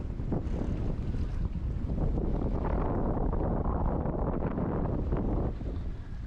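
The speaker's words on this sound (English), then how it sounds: "Wind comes and goes." Strong wind buffets the microphone aboard a sailboat under full sail, a loud continuous roar with gusts rising and falling alongside the rush of water against the hull.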